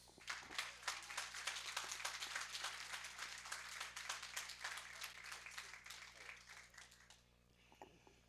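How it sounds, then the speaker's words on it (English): A crowd applauds loudly and steadily for several seconds at a community television celebration, the clapping thinning out and fading toward the end. "let's give a big round of applause to the one and only"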